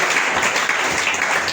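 A church congregation gives a short burst of full, dense applause, many hands clapping together loudly and continuously for a moment.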